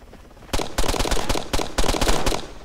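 Gunfire in the video game ARMA III: a loud, close run of sharp shots in quick bursts, cracking out one after another for about two seconds.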